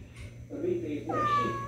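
A house cat meows at home, a short plaintive call rising over people talking nearby in a domestic room.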